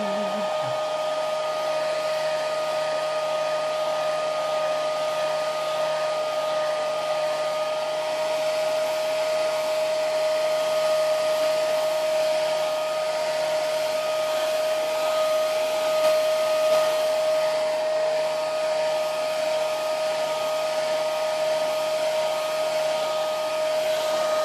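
A hair dryer blows on a Doctor Who TARDIS pencil box, giving a steady, close whirring roar with a constant motor whine that runs unbroken throughout.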